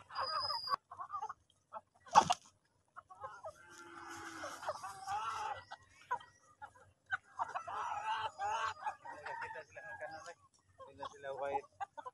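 Rhode Island Red and Isa Brown chickens cluck and squawk in short, irregular bursts around morning feeding time on a farm, fairly close, with a sharp loud call near the start and a voice speaking intermittently among them.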